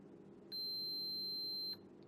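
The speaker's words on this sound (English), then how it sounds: "Beeping." Single electronic beep from a freshly powered-up device on a bench supply, one steady high-pitched tone held for just over a second in a quiet room, fairly faint.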